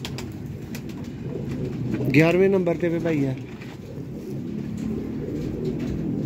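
Pigeons coo softly and continuously in the background while someone speaks briefly over them, the low murmuring calls carrying on before and after his voice.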